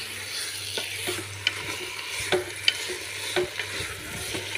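Beef curry gets stirred in a sizzling pan, a spoon scraping and knocking in uneven strokes over a steady low frying hiss, close and fairly quiet, with no voices.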